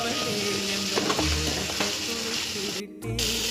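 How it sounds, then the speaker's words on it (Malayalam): Mustard seeds, cumin, crushed shallot, garlic and chilli crackle in hot oil for Kerala-style green bean mezhukkupuratti. The loud, continuous frying sizzle comes with stirring scrapes and cuts out briefly just before the end. "കടുക് ജീരകം താളിച്ചിട്ട് അതിലേക്ക് ഇത് ചേർത്ത് കൊടുക്കും. നന്നായി ഇളക്കി കൊടുക്കാം."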